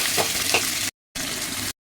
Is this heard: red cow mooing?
no